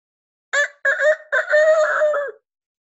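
A young voice mimics a rooster crowing, with three quick choppy bursts ending in a longer held call, close and clear.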